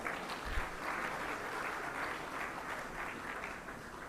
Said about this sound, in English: Can we also have a huge round of applause?